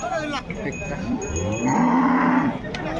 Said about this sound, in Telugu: ఆవు అయితే చాలా భారీ ఆవు ఇదన్నమాట